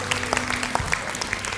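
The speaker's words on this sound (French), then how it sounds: "Come on applaudit Jésus." A church congregation claps during a worship service, a dense patter of hands with a few sharper claps standing out, fairly close and continuous through the short moment.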